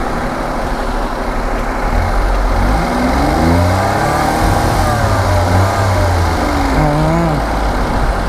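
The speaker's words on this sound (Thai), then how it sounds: "พี่พี่ เบิ้ลเครื่องผมได้ไหมฮะ" A Daihatsu Mira cab pickup with an ED-10 engine is revved repeatedly, the steady close idle rising and falling in several swells, loud and continuous, with no speech over it.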